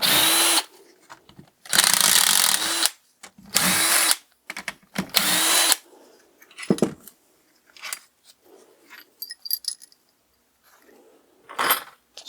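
Power tool whirring screws out of a Honda CB250RS engine casing in four loud bursts, followed by fainter metallic clicks and clinks as the parts are handled, with no talk.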